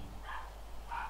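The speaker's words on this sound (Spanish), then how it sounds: "No sé qué le pasa al perro, está ahí, venga a ladrar." A dog in the Genshin Impact video game barks twice, short muffled yaps spaced under a second apart over a low steady background hum.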